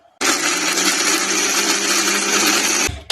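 A mixer grinder whirs at full speed grinding masala paste for chicken sambar, a loud steady motor roar starting abruptly and running for about three seconds before cutting off.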